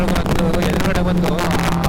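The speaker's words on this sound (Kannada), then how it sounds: "BMW ಬೈಕ್ ಹೋಗ್ತಿದೆ ನೋಡಿ, ಕ್ರೂಸರ್ ಬೈಕು." A BMW 1200 cruiser motorcycle roars past close by, its engine a loud, steady drone with wind rush on a Sunday ride.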